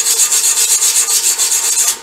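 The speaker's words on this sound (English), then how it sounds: "Well, let's brush the area." A brush is scrubbed back and forth over a metal weld area on a welder cart build, making a loud, close, rhythmic rasping of about a dozen strokes with no talk.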